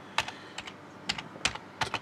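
Keys clacking on a computer keyboard while entering a disk partitioning command during a Windows install, in short irregular bursts of several quick strokes, close and fairly quiet, with no voices.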